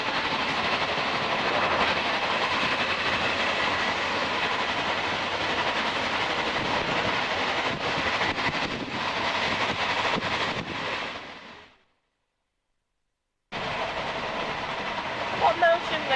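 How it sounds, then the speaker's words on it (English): An Italian passenger train running on rails, a steady loud rumble with rail noise throughout that cuts to near silence for about two seconds before the rolling sound returns. "Italiano train."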